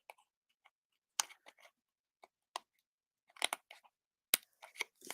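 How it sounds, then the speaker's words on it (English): Scattered crisp snips and clicks of scissors cutting paper, quiet and close, coming in short irregular bursts with silent gaps between them. "I'm just going to actually take my scissors"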